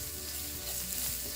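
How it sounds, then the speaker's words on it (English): Ground cumin, pepper and coriander powder sizzle in oil in a pan over a low flame, a steady close hiss with no talking. "You want it to fry nicely."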